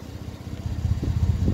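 A 2017 Ford F-150 pickup with a 2.7L EcoBoost engine and bullet muffler, warmed up and idling nearby with a low, even rumble and a steady throb, no voices.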